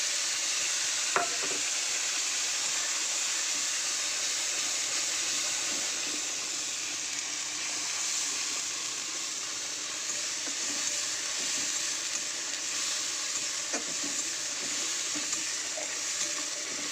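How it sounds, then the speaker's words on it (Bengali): Onion and tomato paste for a fish curry stirred in hot oil, a loud continuous sizzle close up with a couple of faint spoon clinks against the pan. "চলো মশলাটাকে একটু তেলে নাড়িয়ে নিই"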